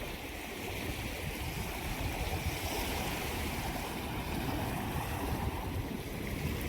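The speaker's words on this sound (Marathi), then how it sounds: "बोट चालले बघा फिशिंगला" A fishing boat moves across the water near Velas, Mandangad, a steady loud rush of water and wind noise with a continuous low engine rumble underneath.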